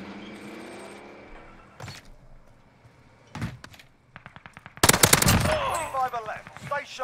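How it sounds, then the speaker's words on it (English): Bursts of automatic gunfire in Call of Duty Warzone on Rebirth Island: a few short volleys early, then a dense, loud rapid-fire stretch near the end, with game sounds between the bursts. "There's a lot of shooting down here."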